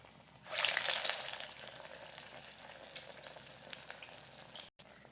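Lentil vadas drop into hot oil and fry over low heat, a loud hissing rush that settles into a steady bubbling sizzle, close and without talk, cut off abruptly near the end.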